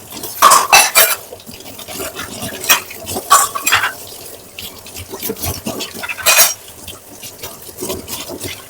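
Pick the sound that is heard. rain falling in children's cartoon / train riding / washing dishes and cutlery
washing dishes and cutlery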